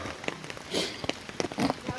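Rain falls on an umbrella during a walk outdoors on a rainy day, sounding as soft scattered patters and sharper individual drop taps close by, with a voice faintly present.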